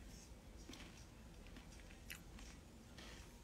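Quiet, close mouth smacking and chewing on sticky, chewy Greek yogurt, a few soft wet clicks spread over a low background hiss.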